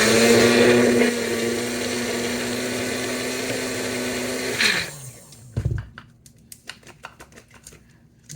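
A kitchen blender churning a frozen pineapple and spinach smoothie, fruit stuck together, whirs loudly and steadily, then winds down with a falling pitch and stops, leaving scattered clinks and knocks of the jar.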